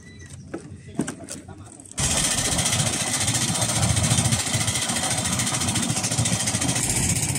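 A small boat engine idles steadily and close by after a brief quieter opening, its low rumble continuous with faint voices under it.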